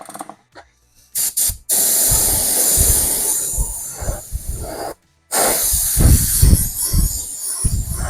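Neon green spray paint hisses from an aerosol can in light coats during a custom paint job, as long steady bursts broken by short pauses, close and loud, with a few brief sputters at the start.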